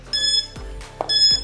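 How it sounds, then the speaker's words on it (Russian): A home fat-burning workout interval timer sounds a sequence of electronic beeps, crisp and close, with a couple of brief pulses followed by longer sustained tones. "Включаю таймер."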